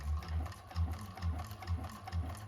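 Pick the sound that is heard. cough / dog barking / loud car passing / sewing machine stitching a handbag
sewing machine stitching a handbag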